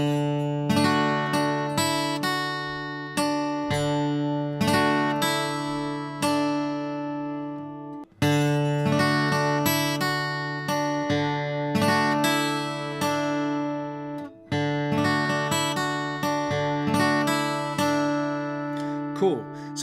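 Acoustic guitar playing the fingerpicked pattern from a song, a bass-string pick followed by downward strums across the next three strings, repeating in clear, close, bright phrases with no talking over them.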